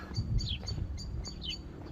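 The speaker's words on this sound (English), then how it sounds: "Nice bit of hedgerow here actually, loads of birds." Birds sing in a hedgerow beside a canal, giving several short, bright chirps and twittering phrases spread across the moment over a low, steady outdoor rumble.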